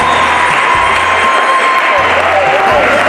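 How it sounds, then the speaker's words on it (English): A spelling bee audience applauds its first runner-up, the clapping and crowd noise sustained and fairly loud, with a steady tone running underneath and low rumbles coming and going. "Let's give him a round of applause."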